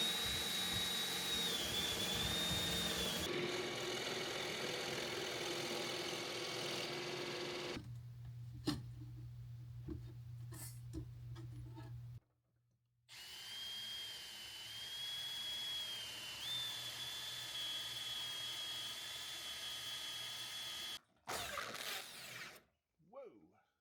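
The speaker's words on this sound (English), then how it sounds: "now this will guide the bit into the wood" A power drill bores dowel holes into wood through a doweling jig, whining in two long, steady runs with a low motor hum between them, ending in short bursts of drilling.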